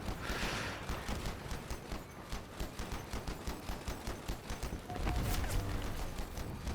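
Steady rhythmic bursts of vehicle gunfire in the Crossout combat game, repeating rapidly across the whole stretch at high, even loudness with a heavier impact near the end.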